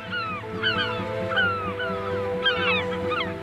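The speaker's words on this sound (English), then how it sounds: "But what is a jackdaw doing by the sea?" A jackdaw by the sea on Norderney gives a run of short, chirpy, squeaky calls in quick bursts over a steady tonal drone, fairly close and clear.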